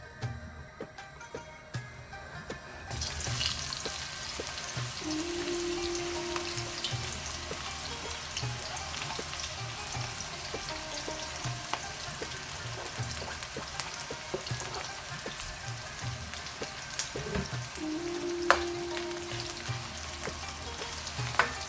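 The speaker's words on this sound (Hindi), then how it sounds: "उसी में मैं प्याज को फ्राई कर लूँगी।" Sliced onions fry in a pan of hot oil for dhaba-style masala bhindi, giving a steady, close sizzle with occasional stirring clinks and scrapes.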